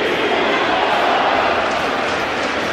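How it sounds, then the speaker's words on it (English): A baseball stadium crowd at a Yankees–Dodgers game roars in a loud, continuous mass of voices, the chant blurred into a steady din with no individual words standing out. "the crowd chanting, "We want Soto.""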